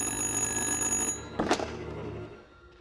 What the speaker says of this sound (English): Answer the goddamn phone!